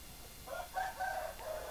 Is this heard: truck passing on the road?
no